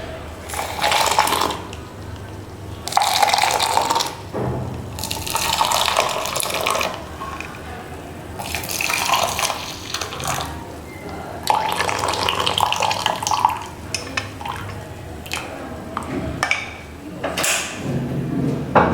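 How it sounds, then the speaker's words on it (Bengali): Freshly made tea strained and poured: irregular bursts of splashing, trickling liquid come close and fairly loud, each lasting a second or two with short quiet gaps and faint clinks between them. "তো এবার আমি চাটা ছেঁকে নেব।"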